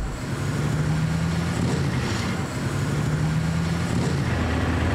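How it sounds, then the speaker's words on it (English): Dirt bike engine on a race track, ridden with a helmet-mounted camera, giving a steady loud engine drone with wind rush throughout, no talking. "I hop on Sandy's bike for the ride of a lifetime"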